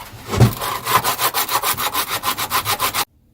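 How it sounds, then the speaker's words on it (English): Coarse P60 sandpaper rubbed back and forth over a wooden part during a tin box guitar build, a steady run of about a dozen rhythmic, close, loud rasping strokes that stops abruptly. "I'm going to sand this round."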